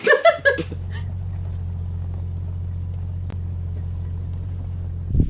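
A Jeep engine idles with a low, steady rumble for several seconds, following a short burst of voices and laughter at the start and a brief voice near the end.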